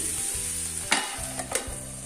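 Bitter gourd and onion fry in a pan while a spoon stirs them, a steady close sizzle broken by a few scraping strokes, with no talk.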